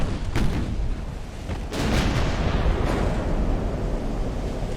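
Naval battle in the game Ultimate Admiral: Dreadnoughts, with 11-inch warship guns firing: a loud, continuous rumbling roar of heavy booms layered over one another, with a few sharper blasts rising out of the din and no talking.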